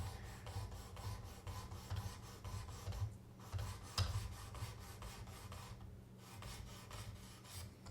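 Buck 180 Crosslock knife blade drawn across the abrasive of a Work Sharp sharpener, a steady rasping scrape in repeated strokes with brief pauses, close and fairly quiet.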